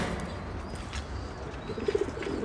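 Pigeons coo softly in a loft, their low rounded calls faint against background hiss and growing a little more distinct toward the end.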